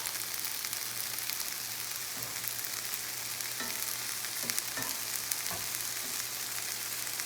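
Steak frying on a flat griddle for a Philly cheesesteak, a steady, quiet sizzle and crackle running throughout with a few small pops and scrapes, no voices.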